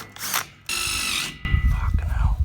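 Power drill boring pilot holes for screws while assembling an arched cabin house kit, a short whirring burst then a longer steady drilling run, followed by clattering handling noise up close.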